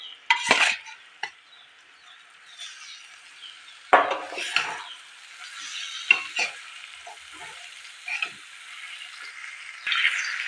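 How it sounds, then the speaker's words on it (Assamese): Marinated chicken for an Assamese chicken masala added to frying masala in a pan over medium flame, with intermittent bursts of sizzling and spoon-on-pan scrapes separated by quieter stretches. "এতিয়া মই ৰেডি কৰি থৈ দিয়া মেৰিনেট কৰি থৈ দিয়া মাংসখিনি দি দিছোঁ।"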